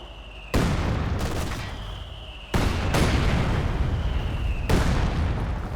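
Two mortar pits firing in the strategy game Company of Heroes 2, three heavy booming blasts a couple of seconds apart, each followed by a rumbling tail, loud and close with no talking.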